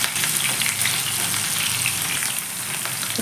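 Tomatoes sizzling in a pan of frying curry base with onion and green chilli, a steady close hiss of hot oil throughout with no talking.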